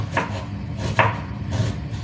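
A knife chops garlic, ginger and onion on a board before sautéing, with a few distinct, fairly loud strokes spaced unevenly over a low background hum.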